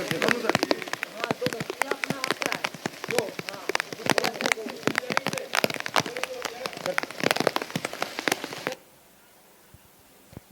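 Heavy monsoon downpour in Sirsa, a dense crackling patter of rain drumming on surfaces for about eight seconds before cutting off abruptly to near silence.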